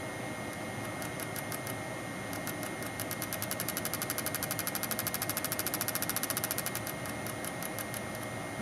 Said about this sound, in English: the speed at which the motor turns is determined by the amount of shadow